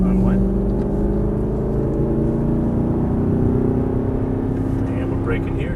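A race car engine under throttle on a track, a steady droning in-car rumble that holds for several seconds, loud and close, with faint voices at moments.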